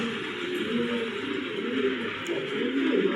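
Pigeons kept as a pair for sale cooing in soft, low, repeated phrases, close by against a quiet steady background hiss.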